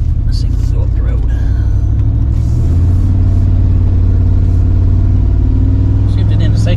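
A rough-running 1988 Chevy Silverado pickup accelerating up a road, its engine a loud low rumble from inside the cab that rises in pitch, drops briefly at a quick shift into second, then climbs again.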